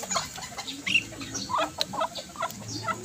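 Backyard chickens cluck and murmur behind a house, several soft short calls scattered close by, with a few sharper squawks rising above the low flock chatter.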